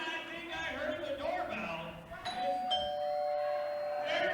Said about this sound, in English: They rang the doorbell